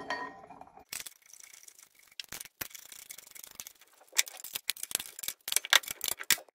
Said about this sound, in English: I will show you now how the mounting bracket is attached to the knuckle.